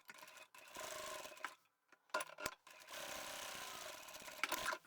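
A sewing machine runs in bursts while back stitching a craft tote/handbag with a stabiliser, a rapid close whirring stitch sequence broken by short pauses and a few clicks, with no talking.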